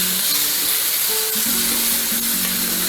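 Boneless skinless chicken searing in a pan without oil gives a loud, continuous hiss and sizzle close up, with faint background tones underneath and no speech.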